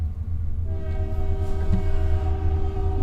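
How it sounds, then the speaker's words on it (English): A train passes with a steady rumble and a sustained horn tone, loud and continuous throughout. "You guys hear the train?"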